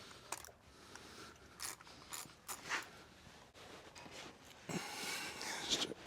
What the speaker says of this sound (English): we're gonna be loosening the bead lock